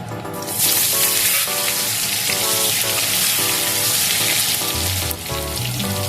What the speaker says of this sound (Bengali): এই তেলের মধ্যে আমি আলুটা ভেজে নেব।